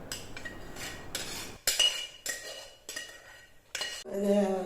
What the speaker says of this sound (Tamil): வேக வச்ச காய் எலும்பு எல்லாத்தையும் கடாய்க்கு மாற்றிடலாம்